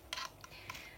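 A computer mouse at a PC desk clicks three times in quick succession, small sharp close taps against a quiet room.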